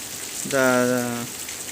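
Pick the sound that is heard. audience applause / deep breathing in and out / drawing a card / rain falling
rain falling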